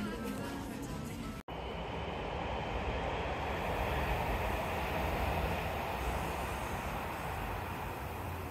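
A train rumbles along an elevated railway line above a shopping area, a steady, broad roar that holds at an even loudness throughout after a brief cut near the start.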